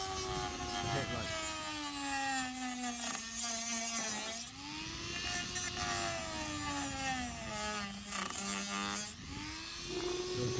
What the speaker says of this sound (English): you got to Dremel all around